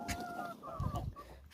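Roosters fight at close range, giving short clucking calls and scuffling sounds over a faint background, brief and moderately loud.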